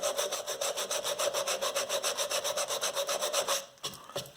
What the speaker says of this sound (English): sand away my original lines